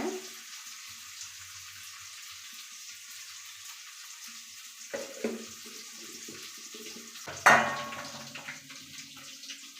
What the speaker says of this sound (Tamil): வெங்காயம் வணக்கிக்கலாம்